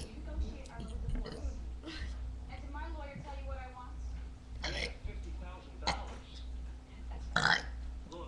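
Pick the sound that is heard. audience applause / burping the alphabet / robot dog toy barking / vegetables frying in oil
burping the alphabet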